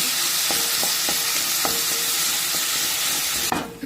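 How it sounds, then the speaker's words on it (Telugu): Fish pulusu curry base stirred in a hot pan until browning, a steady sizzle under repeated soft scrapes of the spoon at an irregular rhythm, with a louder clatter at the end. "ఇలా వేసుకొని కలుపుకుంటా కొంచెం బ్రౌన్ కలర్ వచ్చే వరకు"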